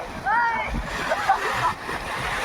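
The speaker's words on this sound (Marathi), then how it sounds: "कडक कडक एकदम सिनेमॅटिक अशा लाटा आहेत समुद्र किनारा" Strong ocean waves break and splash on a beach, a rushing, sloshing wash that runs throughout, with people talking and calling out over the surf.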